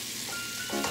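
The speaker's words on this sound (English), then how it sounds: "I'm going to start it off by making some leftover steak" Leftover steak sizzles in a frying pan, a brief dense crackle close by that swells slightly louder at the very end.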